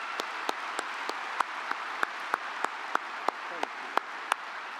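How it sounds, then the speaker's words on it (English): Audience applause at a BGSU winter commencement ceremony, a steady hall-filling patter of many hands, with a few louder individual claps standing out at regular intervals. "Let's give these individuals a round of applause."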